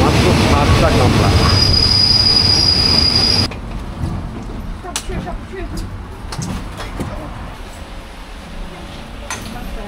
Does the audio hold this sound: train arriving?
yes